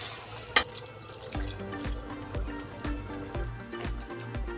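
Water poured from a tap-like stream into a cooking pot of sambar with bottle gourd, a continuous close splashing flow with a brief sharp knock near the start and a low rhythmic tone pattern underneath.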